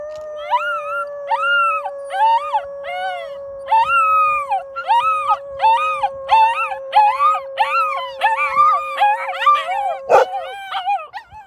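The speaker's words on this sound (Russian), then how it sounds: "Вон, выть сейчас будет, ну как Рамзан." Several puppies howl and whimper in overlapping, rising and falling cries, close by and fairly loud, with a sharp bark-like burst near the end.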